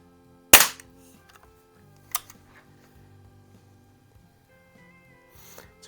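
A rebuilt early Crosman 760 pellet air gun fires two sharp, close shots about a second and a half apart, each a crisp crack with a quick decay, followed by faint handling clicks.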